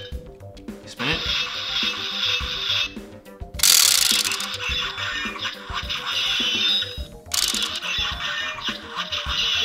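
A Power Rangers spin sword toy, a boxed Black Box Morpher, makes rapid ratcheting clicks as its small hinged parts are spun, in several bursts with electronic sound-effect tones between them, close up.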